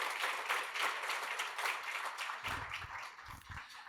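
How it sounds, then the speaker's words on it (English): Luncheon crowd at the 2025 Future Texas Business Legends Award event gives a big round of applause for the awardees, dense clapping that thins and tapers toward the end. "Please join me in another big round of applause for all of our"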